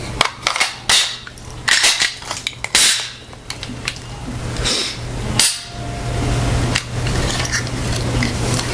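Walther PPQ, a German-made pistol, being handled with its slide racked back, giving a series of sharp metallic clacks and clicks that come in clusters over a steady low hum, close and fairly loud, with no talking.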